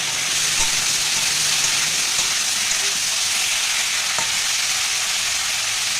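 A pan fries steadily with a loud, dense sizzle and hiss for chilli paneer, broken only by a few faint clinks of stirring.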